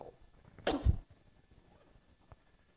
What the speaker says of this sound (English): Sorry, I need to clear my throat.